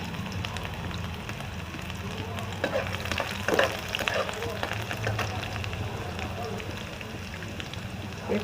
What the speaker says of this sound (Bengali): তেল দিয়ে দিয়েছি 3 চামচ, আর রসুনের কুচিটা আগে দিয়ে দিলাম, কাঁচা লঙ্কাটাও দিয়ে দিলাম